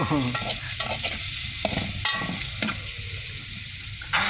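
Kamias sautéed with corned beef and onion in a pan: a steady hiss of frying runs throughout, broken by repeated scraping stir strokes at close range, with no voices.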